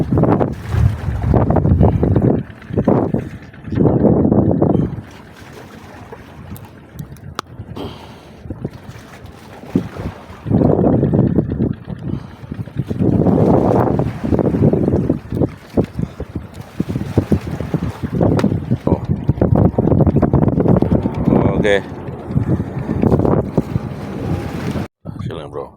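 Strong wind buffets a fishing boat at sea during a snapper fishing trip, coming in loud, rough gusts that rise and fall, with a brief spoken word.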